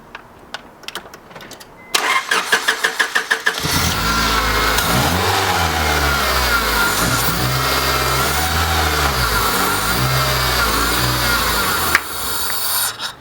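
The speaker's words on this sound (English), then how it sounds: "you're going to start it and then give it a little throttle" A Honda Civic with a suspected failing fuel pump cranks with rapid rhythmic churning, catches, then revs up and down in uneven throttle blips before cutting out abruptly, loud and close.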